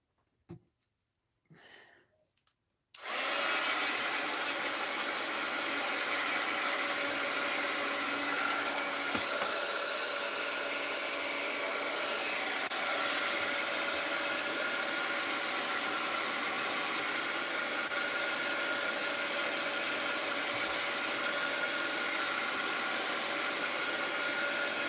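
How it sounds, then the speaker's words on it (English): An electric heat gun blows on a mixed-media art journal cover, switching on after a few soft handling noises and then holding a steady, close, whooshing hum without a break. "Whoops, where's my heat gun?"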